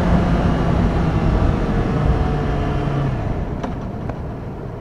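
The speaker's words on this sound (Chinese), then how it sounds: "不知道大家能不能听到这个引擎声啊" A car engine runs with a steady, close, low droning hum that eases slightly toward the end, with no talking over it.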